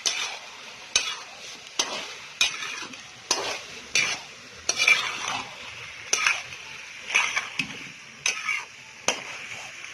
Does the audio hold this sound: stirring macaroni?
yes